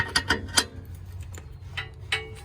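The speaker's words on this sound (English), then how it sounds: "And we'll use our wrench here." A ratchet wrench tightens a bolt on a Cadillac, giving a few sharp, close clicks in quick bursts with short pauses between strokes.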